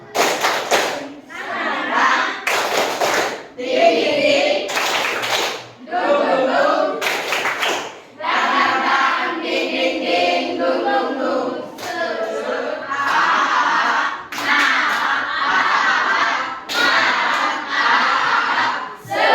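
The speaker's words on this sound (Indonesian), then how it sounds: "Kita tepuk semangat lagi." Classroom of students performs a rhythmic cheer chant, bursts of synchronized clapping alternating with group shouting in repeated patterned phrases, loud and close.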